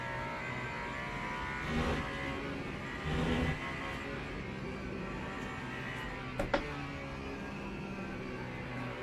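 A race car engine in the video game Le Mans Ultimate drones steadily, with a few brief revving surges and a sharp click near the end; no one speaks.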